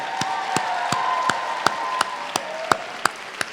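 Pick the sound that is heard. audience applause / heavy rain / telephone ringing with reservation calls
audience applause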